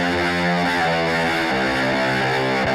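A Serum 2 synth bass, modeled on a Basement Jaxx line, plays through a tiny laptop-speaker preset with guitar-style distortion, a thin, buzzy, heavily saturated sustained tone with shifting notes, loud and without speech.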